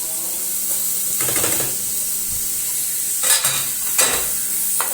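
Shawarma meat frying in a pan is stirred in several bursts of scraping and sizzling, with a low steady sizzle beneath and brief clinks of a utensil against the pan, close and moderately loud.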